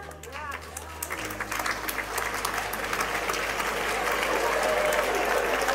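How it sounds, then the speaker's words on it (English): Parents at a graduation clap together, with applause and crowd noise building and holding steady under a voice speaking at the start. "Parents are applauding."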